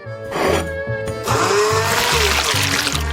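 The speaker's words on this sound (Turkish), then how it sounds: "Balığı blender'a atalım ve karıştıralım." An electric blender whirs and churns as fish is blended into a cocktail drink, a loud motor hum starting abruptly and pulsing with sloshing liquid for a few seconds.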